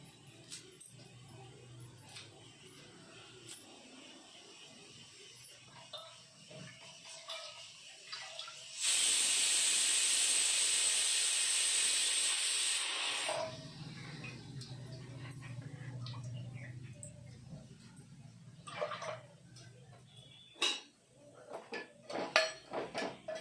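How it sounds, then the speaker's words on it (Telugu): Pressure cooker whistle letting off steam while rice cooks alongside a mutton curry: a loud, steady, shrill hiss lasting about four seconds, standing alone over quiet kitchen clatter, followed by softer pot and utensil sounds. "రైస్ కూడా విజిల్ వచ్చేస్తుంది అది విజిల్ వచ్చేసింది"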